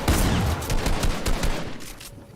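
Rapid gunfire rattles through a Fortnite match at a competitive tournament final. Dense bursts of shots come close and loud in quick succession, with no voices.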